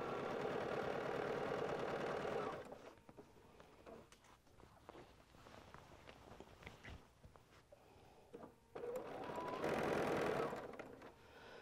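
A sewing machine stitches a quilt border in two steady, fast-humming bursts at the start and end, with quieter handling sounds and pauses between them.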